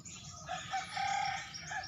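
Chickens in a farmyard on an overcast morning, a couple of faint, distant clucks and drawn-out calls over quiet background noise, without voices.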